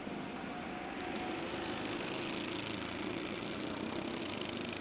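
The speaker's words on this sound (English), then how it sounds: "Max Taddy picking up the throttle as he goes through the Stewart S's" Honda cadet racing kart engine on track at Rowrah, a continuous buzzing motor drone heard from a distance with slight swells as throttle picks up, no voices.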